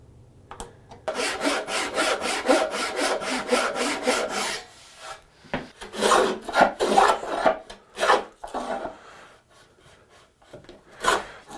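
A hand saw cuts a rabbet into a wooden board in rapid rhythmic rasping strokes, close and loud, with pauses between runs of strokes and a few lone strokes near the end.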